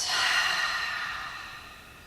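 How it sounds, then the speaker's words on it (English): At a yoga class, a single long, audible exhale follows a deep in-breath, airy and breathy, close to the microphone and fading gradually over about two seconds. "Take a deep breath in and a long breath out."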